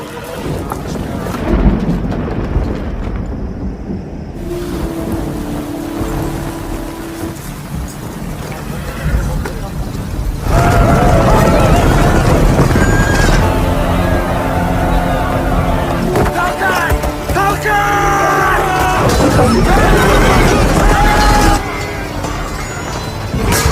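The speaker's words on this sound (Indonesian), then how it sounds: "perang pun terjadi dengan diiringi hujan yang sangat deras" Heavy downpour drenching a Viking-era battle scene, dense roaring rain with rumbling low thunder and clashing commotion, loud and sustained, intensifying midway and layered with film score and effects.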